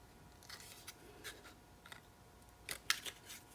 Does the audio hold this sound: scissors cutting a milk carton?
yes